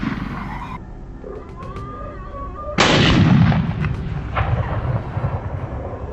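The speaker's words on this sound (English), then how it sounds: "After that, I continued to adjust the gun and shoot the others." A single loud, booming gunshot from hunters ambushing a herd of wild boars cracks out midway and echoes off with a long rumbling tail, following a stretch of steady background noise.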